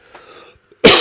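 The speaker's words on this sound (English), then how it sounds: "I'm going to have to cough over here for a second." A single sharp, loud cough bursts out near the end, close by, after a faint low murmur.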